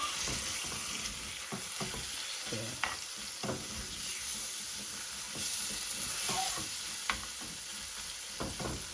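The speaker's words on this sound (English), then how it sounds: "let the spice cook for a couple of minutes" Curry spices cook in a pan with lamb over medium heat, a continuous close sizzle and hiss with occasional stirring knocks and scrapes, no voices.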